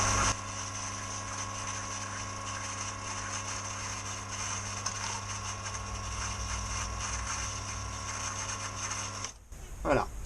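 Garden water pump drawing from a well, spring or rain tank, running as a steady mechanical hum with constant tonal whine, near and even for most of the stretch before cutting off near the end with a short clunk.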